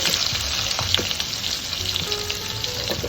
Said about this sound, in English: I'm going to go ahead now and put in my onions